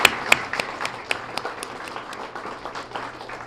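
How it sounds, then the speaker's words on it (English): Audience applause for school volunteers at a Student of the Month ceremony, a moderate, steady patter of many hands clapping with sharper individual claps standing out, no talking. "So let's give them all a wonderful round of applause"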